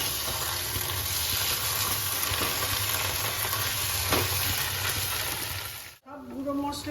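Ground spices and tomato ketchup frying and sizzling in a pan, with a steady close hiss and light scraping from stirring, then a brief break before a softer sizzle resumes.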